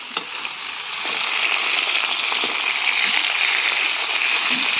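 Chopped eggplant for bharta fries in a pan with a steady, close sizzle, and the sound swells and then holds constant throughout.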